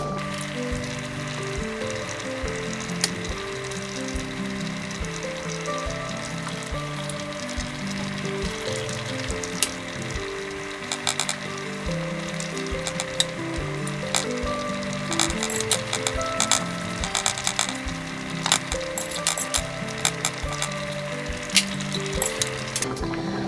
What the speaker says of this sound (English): Always toast your tortillas on a pan that's already hot.